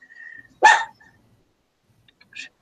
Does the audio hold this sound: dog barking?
yes